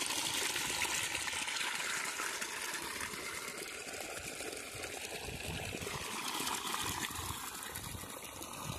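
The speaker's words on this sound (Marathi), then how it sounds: "अशा प्रकारे हा 5 HPचा पंप पाणी मारत आहे" A 5 HP Kusum solar water pump discharging water in a steady, loud continuous gush that flows without a break from start to end, alone with no talk.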